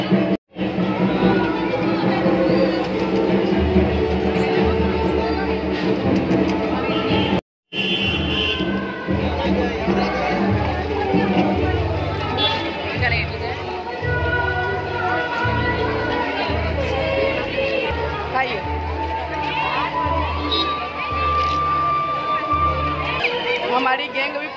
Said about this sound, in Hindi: आप भीड़ देख के अंदाज़ा लगा सकते हैं कि कितनी ज़्यादा भीड़ है